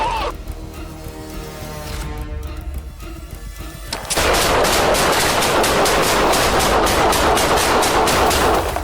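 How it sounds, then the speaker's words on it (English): Gunfire erupts during a police confrontation with an armed suspect, a burst of shots followed by sustained loud, crackling rapid fire that fills the second half, close and harsh with no clear speech. "Shots fired!"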